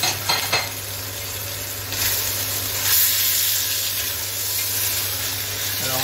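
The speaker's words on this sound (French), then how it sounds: "Je fais revenir un petit peu et je mets l'autre moitié." Beef browning in a pot for bœuf-carottes, sizzling steadily and close, with a few stirring scrapes and utensil clinks near the start and around the middle.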